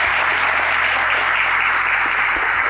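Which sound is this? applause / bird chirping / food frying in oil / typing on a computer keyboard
applause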